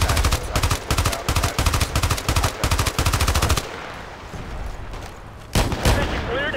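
Sustained bursts of rapid automatic fire from an FN Minimi Para light machine gun in a shooter video game, loud and close, broken by a short pause before firing resumes.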